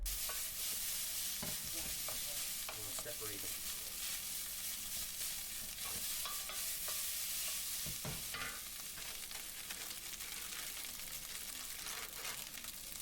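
Leftover rice is stir-fried in a pan, a constant bright sizzle with the scrape and clatter of stirring running throughout, close and fairly loud, no voices.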